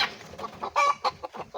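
Newly caught wild red junglefowl, small labuyo hens, cluck nearby in short, uneven bursts, a few sharper notes standing out over a soft background.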